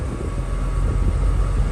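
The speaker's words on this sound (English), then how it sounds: "you can hear the air conditioning going." Car air conditioning running inside a project vehicle, a steady broadband whoosh with low rumble, continuous and fairly loud, with no talk over it.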